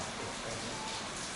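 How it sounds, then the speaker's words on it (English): Steady rain pours down in a remote mountain area of Vietnam, a dense, even hiss that holds at the same level for the whole moment with no break. "And raining now, today."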